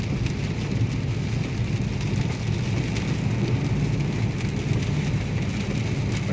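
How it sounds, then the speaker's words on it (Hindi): Heavy rain pours down steadily, a loud, dense hiss and patter holding without pause, with a low rumble underneath and no voices. "बारिश बहुत तेज़ है"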